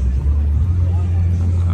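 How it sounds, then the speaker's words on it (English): Heavy city traffic near a concert venue in Tirana, Albania: a continuous low rumble of cars and engines, with faint crowd babble in the background. "Of course, the traffic is horrendous."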